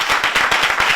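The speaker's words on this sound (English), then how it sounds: "put your hands together and in a very loud way applaud the performance of Antonio Yagbero" A quiz show audience gives a contestant a short burst of loud, rapid clapping, with close, crisp claps coming in quick succession.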